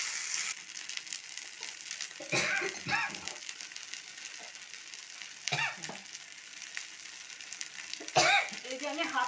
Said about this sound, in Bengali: এখন আমি এই যে কাঁঠালের আটি বাটাটা দিয়ে দিচ্ছি